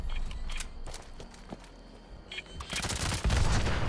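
Rapid bursts of gunfire from a commando build in Fallout 76 cut through as Super Mutants are shot at, with short volleys, pauses between, and a heavier cluster toward the end.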